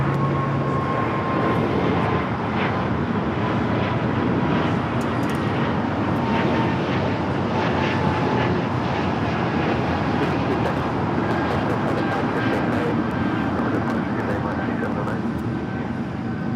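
A Breeze Airways Airbus A220-300 takes off from LAX bound for Pittsburgh, giving a continuous, fairly loud jet engine roar that stays even across the whole stretch.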